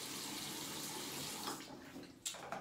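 Water running from a bathroom tap into a sink with warm water for wetting the face, a steady close splashing rush that shifts and briefly splatters near the end, with no talk.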